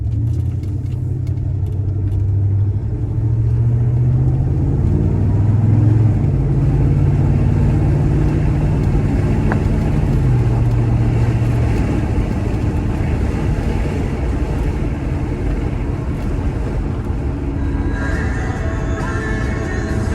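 A 1970 Chevrolet Chevelle Malibu V8 rumbles steadily while driving, a low engine drone that shifts pitch early on and then settles into a continuous road roar.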